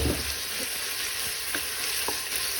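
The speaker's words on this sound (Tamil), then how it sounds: "அப்படியே கிளறி விட்டுட்டு வெங்காயம் நல்லா கிளறி விட்டுட்டு" Steady, loud sizzle of onions frying in a pan for kuska biryani, close up, with occasional soft scraping knocks as they are stirred.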